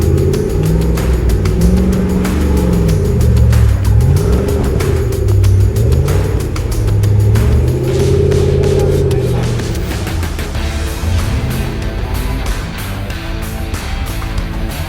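A built Jeep on the Pickle Jeep rock crawling trail in Moab climbs a rock obstacle, its engine loud and close, revving and surging in rising and falling waves throughout.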